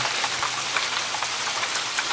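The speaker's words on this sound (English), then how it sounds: "you could probably hear the rain" Rain falls steadily onto a surface around a rainwater capture system, a dense, even hiss of drops with no talk over it.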